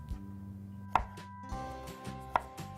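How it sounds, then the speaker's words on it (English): A knife slicing through an onion on a cutting board, making a few distinct close chops spaced about a second apart over a low steady background hum, with no talk. "So just slice in, and I'm adjusting the angle of the knife as I go up the"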